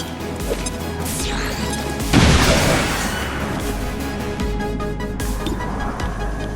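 A grenade detonates in XCOM 2, a single sudden loud crashing blast that swells briefly and decays over a steady bed of game music and ambience.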